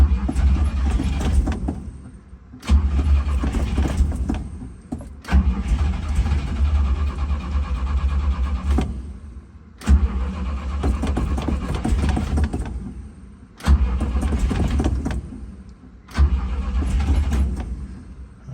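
A 1967 GMC K1500 pickup's engine cranks and catches repeatedly, running rough in surges with brief pauses and restarts, loud and close throughout.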